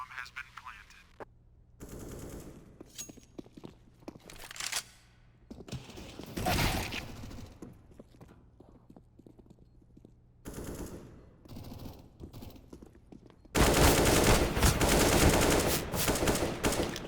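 Automatic rifle spray from the video game CSGO, several sharp bursts of rapid fire separated by quiet gaps, the last and loudest burst running to the end, with faint talk now and then.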